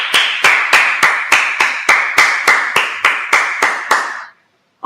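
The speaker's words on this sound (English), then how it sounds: "All right, let's clap it up." A room of brothers at a religious class claps in unison, about a dozen loud, evenly spaced claps in a steady beat that stop abruptly, followed by near silence.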